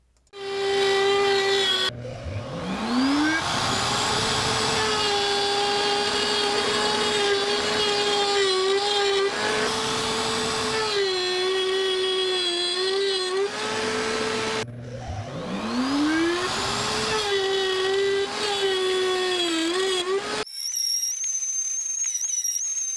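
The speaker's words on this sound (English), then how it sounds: "I'm now cutting the grooves for the shelves" A router running in a jig cuts shelf grooves into wood, making a loud, steady high-pitched whine with a short spin-up at the start and again partway through, then cutting off abruptly near the end.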